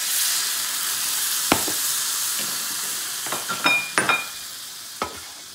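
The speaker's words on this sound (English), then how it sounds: "Little red eye gravy going." Red eye gravy sizzles steadily in a Field Company No.10 cast iron skillet as hot coffee deglazes the ham drippings, with a constant hiss broken by a few close scraping clinks of a utensil, and no voices.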